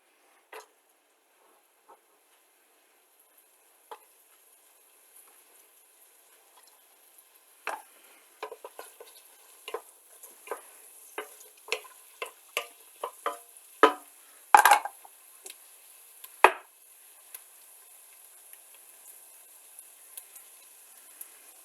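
Chopped onions and carrots tipped into a soup pot, starting with a few sparse knocks, then a cluster of light clatters, taps and stirring scrapes that fade out, all quiet and close.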